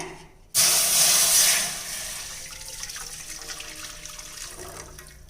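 Jaggery water poured through a strainer into a pan, a sudden loud splashing gush that starts abruptly, then eases into a steady, softer trickle and patter that continues to the end.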